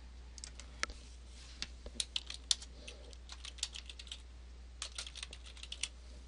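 Computer keyboard typing a name into a format field of inventory software, light irregular key clicks in short runs over a low steady hum, no voices.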